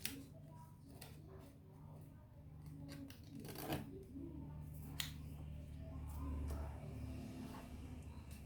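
Scissors snip kameez fabric to shape a neck design, sounding as a series of crisp, close, quiet clicks and cuts spread over several seconds, with a voice briefly talking.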